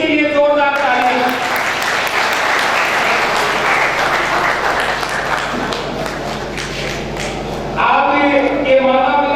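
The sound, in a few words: audience applause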